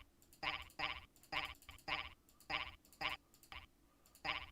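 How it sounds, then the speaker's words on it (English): Frog room noise in the Roblox video game: a rhythmic run of about ten sharp, croaky frog calls in quick pulses, evenly spaced and fairly loud over a low background hum, with no talking. "That noise will play if you trigger the frog room."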